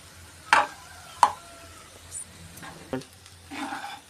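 Rice mixed with fried raw plantain is stirred with a spoon, giving a few soft scrapes and knocks spaced irregularly against the pan, with a faint sizzle underneath.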